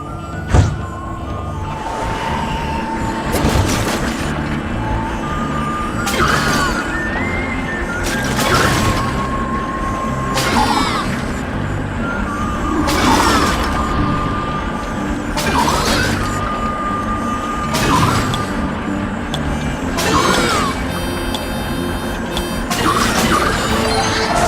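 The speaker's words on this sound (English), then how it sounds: "Break all these tents and grab all the fireflies." A tornado smashes tents in the Xbox 360 video game Tornado Outbreak: a run of loud, regular crashing impacts, roughly every two seconds, over continuous game music and rumbling wind.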